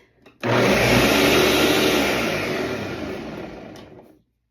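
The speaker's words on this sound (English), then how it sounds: "I like this Ninja blender." A Ninja blender whirs loudly through frozen strawberry lemonade made from concentrate, one continuous high-speed run of about four seconds that starts abruptly and winds down near the end.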